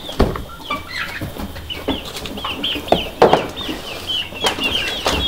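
Several chickens cluck and squawk nearby in an uneven chorus, with occasional thumps and scuffling among them.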